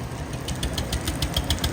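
A diesel engine running at a low, steady idle with a rough knocking rhythm, moderately close, no voices.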